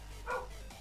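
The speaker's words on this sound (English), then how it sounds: "that's my dog that you hear in the background" A single short dog bark sounds in the background of an indoor room, moderately loud and brief, with no talking over it.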